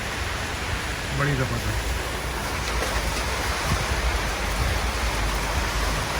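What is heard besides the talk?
heavy rain in Thailand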